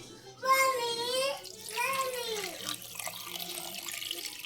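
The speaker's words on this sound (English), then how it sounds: "We shall first add water." Tap water runs into a pot of paaya trotters in a home kitchen, a steady splashing rush under a woman's speech, continuing faintly after the voice.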